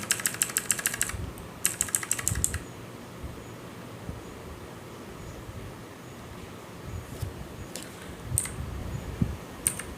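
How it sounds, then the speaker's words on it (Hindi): Repeated key presses on a PC keyboard while a computer restarts, coming as quick rapid-fire clicking bursts at the start and a few scattered taps later over a low background hum. "कीबोर्ड पे मैं F10 प्रेस कर रहा हूँ।"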